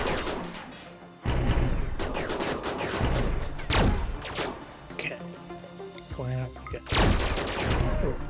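Gunfire from colonists in the RimWorld video game, with bursts of shots and explosive crashes repeating loudly throughout a busy battle, game audio only with no talking.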